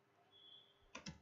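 Two or three quick keystrokes on a computer keyboard, clicking close and fairly faint after a near-silent pause, with no speech.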